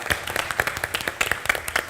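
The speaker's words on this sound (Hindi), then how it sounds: "जोरदार तालियां फॉर बीइंग अ स्पोर्ट" Studio audience applause on a TV comedy show, with rapid, dense clapping throughout, moderately loud and steady for a couple of seconds.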